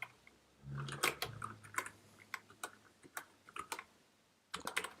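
Quiet, uneven bursts of clicking keystrokes on a computer keyboard, close and fairly faint, with short pauses between flurries and no talk.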